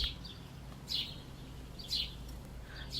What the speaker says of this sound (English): probably the bird that's outside as well. I'm sure you guys can hear him. He's like going off.